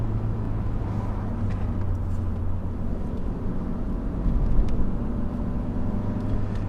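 Opel Vectra C car engine running steadily as a low, continuous rumble, with a slight surge in level near the end that may be a rev or gear change; no talk.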